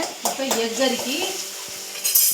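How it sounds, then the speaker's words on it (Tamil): Onions and tomatoes sizzling in a hot pan while a spoon scrapes and stirs through them, with a soft clink of metal near the end. "வெங்காய தக்காளி வளைஞ்சிருச்சு, அதனால கிண்டணும்"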